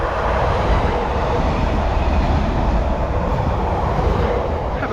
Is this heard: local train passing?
yes